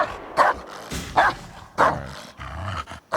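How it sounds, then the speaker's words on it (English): A dog in the Indiana Jones and the Great Circle video game gives four sharp, evenly spaced barks mixed with low growls, close and loud against quiet game ambience. "I heard a dog."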